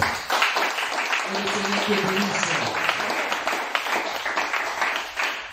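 Congregation applauding in a church service, a continuous wash of clapping from many hands with voices calling out over it, loud and sustained throughout.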